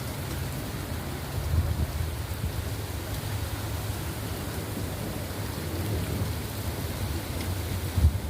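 A rainstorm pours down in a steady dense hiss while low thunder rumbles underneath, swelling in a couple of heavier booms, with no one talking.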